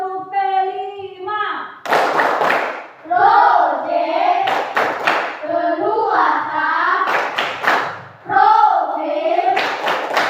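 Classroom of children doing a rhythmic clapping chant called tepuk P5, sharp group claps in bursts between sung and shouted chanting voices, loud and close in a school room.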